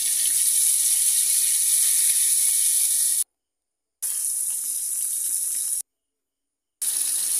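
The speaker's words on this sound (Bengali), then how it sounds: "একটা প্যান নিয়েছি, তেল দিয়ে দিলাম পরিমাণ মতো মাছটা ভাজার জন্য।" Pieces of rohu fish, salted and rubbed with turmeric, frying in oil in a pan, a steady hissing sizzle that cuts out completely twice and then resumes.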